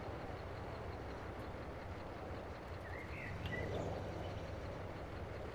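A train in Farming Simulator 22 rumbles along in a steady low continuous roar with broad noise, a faint higher whine drifting in briefly midway, no talk over it.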